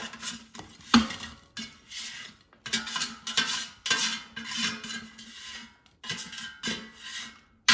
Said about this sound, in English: Now let's take them out of the air fryer.